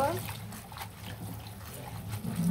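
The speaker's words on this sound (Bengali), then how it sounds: "আমি লাল শাকগুলো খুব ভালো করে সুন্দর করে ধুয়ে নিব" Red amaranth leaves are washed by hand in water, with soft splashes and trickling that stay quiet and close, lifting briefly at the end.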